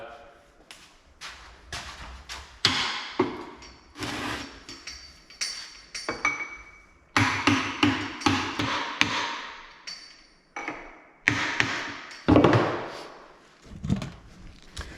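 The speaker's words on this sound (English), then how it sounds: "So I actually got an aluminium drift and a copper mallet." A copper mallet taps an aluminium drift on the gearbox of a 1965 VW Beetle 1200 air-cooled transmission during a teardown. Repeated sharp metallic knocks come in bursts and clusters, close and loud, with a voice talking between them.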